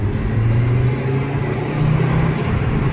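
An Audi RS3 engine drones steadily from inside the car, a loud low hum that holds and rises slightly, with no talking.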